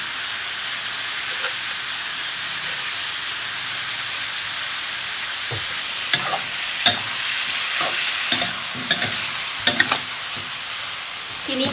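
Pork stir-frying dry in a pan for a northern Thai noodle soup, a steady loud sizzle and hiss with scattered scraping and stirring knocks growing more frequent toward the end, close up, no talk.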